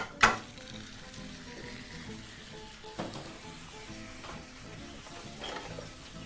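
Pork chunks fry in a hot pan, a soft, close sizzle with a sharp clack at the start and a few light knocks and stirring scrapes along the way.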